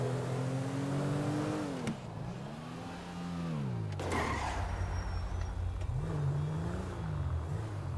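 A stolen car is driven back around a corner in a video game, its engine droning steadily with rising and falling revs and a sharp shift or impact partway through, with no talking.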